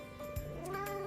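An F2 Savannah cat lets out one drawn-out caterwauling meow that rises and wavers, close and clear indoors.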